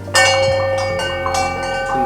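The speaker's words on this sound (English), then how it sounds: "Turkish bells there, I think." Bells ringing inside a Royal Ocean Suite at the Ayada Maldives resort, with several bright metallic strikes that overlap and shimmer for about two seconds, heard close and fairly loud with no talking.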